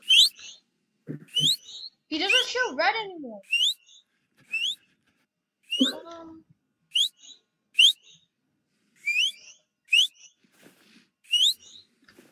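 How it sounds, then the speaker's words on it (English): Whistling in the Roblox game Aperiphobia: a string of short, rising whistle chirps repeated at irregular intervals, with someone talking between them. "Just whistle."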